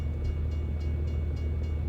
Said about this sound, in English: I hear the train behind us once again.